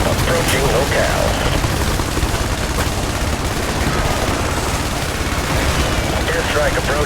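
Dense, continuous gunfire and machine-gun bursts from the strategy game IS Defense on the Mainland level, loud and unbroken with booming impacts mixed in, under faint radio-style voice callouts.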